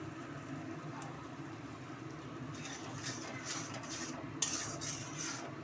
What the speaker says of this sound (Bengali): দিয়ে নাড়াচাড়া করে নেব আমি